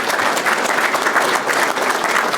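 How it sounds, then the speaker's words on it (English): Applause from an audience at a housing authority talk, a thick, even patter of many hands clapping throughout, close and loud with no speech over it. "Give her a big round of applause."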